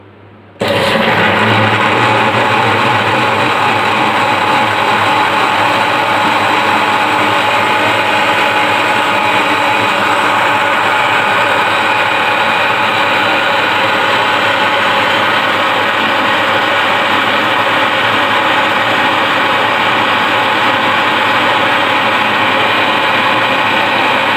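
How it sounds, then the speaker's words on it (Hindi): An electric blender whirring mango milkshake starts abruptly and runs in a loud, continuous, steady drone for over twenty seconds, close by with no talking. "तो अब हम ब्लेंड कर लेते हैं इसको।"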